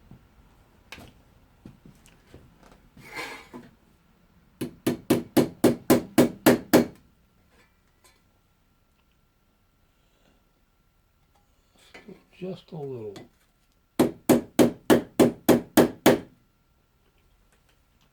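Two fast runs of sharp metallic taps from a small hammer tapping out a dimple in a Disston backsaw blade, about eight strikes each, with a brief spoken remark between them.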